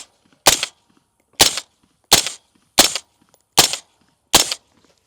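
Six evenly spaced, loud suppressed shots from a 10.5-inch ADM AR-15 rifle, each a sharp crack with a short tail, separated by clear silence.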